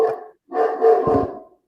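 A dog outdoors barks loudly in two close bursts, the second longer and more drawn out, near and clear with no talk over it.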